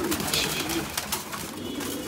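Pigeons on a rooftop coo steadily through a constant hum of background noise, the soft throaty calls overlapping with no pauses.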